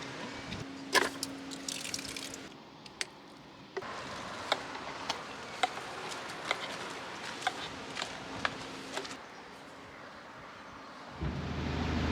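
Water running and splashing as a narrowboat's water tank overflows during filling, a steady liquid wash with scattered drips and splashes, fairly close, ending in a brief louder gush of outside noise.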